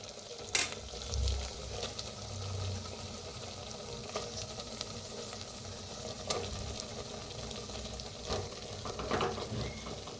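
Masala and brinjal roast in a clay pot while being stirred, giving a steady low sizzle with occasional scraping knocks and clinks throughout, no voices.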